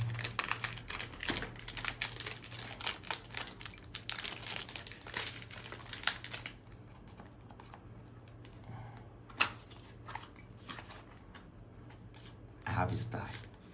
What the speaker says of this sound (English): So I'm going to unbox this one and show you what's inside the carton